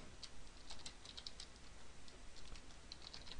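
Fast typing on a computer keyboard while setting up a network switch, a steady patter of light, quick keystrokes heard close and quiet, with no talk.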